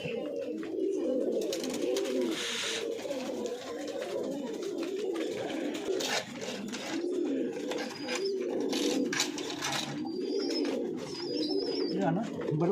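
Pigeons in a loft coo in soft, repeated low rolling calls that continue throughout, close and moderately loud, with someone talking over them at times.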